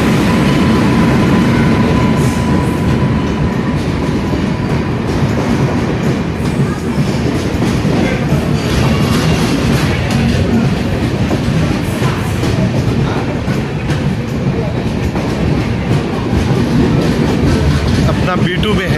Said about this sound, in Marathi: आधा घंटा लेट चल रही है ट्रेन